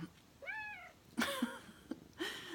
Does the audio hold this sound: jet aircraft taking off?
no